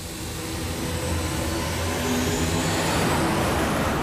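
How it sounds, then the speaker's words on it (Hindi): Drone flying overhead in a chase, a steady, dense whirring drone noise that holds continuously and grows slightly louder, with no talk. "अब तो इस ड्रोन का पीछा ही करना पड़ेगा"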